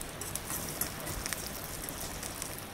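Green chillies, curry leaves and dried red chillies sauté in a pan of hot oil for a millet curd rice tempering, giving a steady, soft crackle and hiss with faint pops throughout, no voices.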